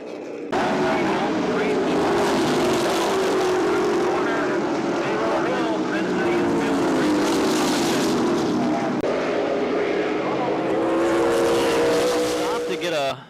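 Race cars in a Main Event Racing Series feature at Columbus Motor Speedway roaring loudly and continuously as the pack passes, engines rising and falling, with an announcer talking over the din.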